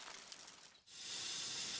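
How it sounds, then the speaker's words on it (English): Steam hissing from Thomas the Tank Engine's boiler, heated by coal: a noisy hiss dips briefly near the middle, then surges back in a loud, steady, broad rush that holds to the end. "Yes, coal has heated up Thomas's boiler. Now he can make steam"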